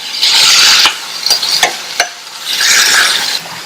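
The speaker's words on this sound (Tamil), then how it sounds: "இந்த மசாலாவோட சேர்ந்து முள்ளங்கி 2-3 நிமிஷம் ஃப்ரை ஆயிட்டு இருக்கட்டும்." Boiled radish frying and being tossed with masala in a pan, a loud steady sizzle with bursts of stirring and several sharp scrapes of the spoon against the pan, no voices.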